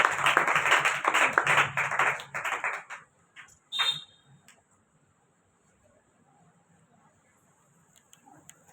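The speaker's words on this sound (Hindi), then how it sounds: "बहुत तालियां" A church congregation claps loudly and densely for a pastor for about three seconds, then the clapping thins out and stops, followed by a brief sharp tap and near silence.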